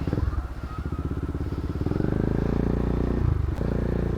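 A motorcycle engine idles in a motorcycle parking area with a rapid, chugging putter that grows steadier and louder, close by, with a brief clatter near the end.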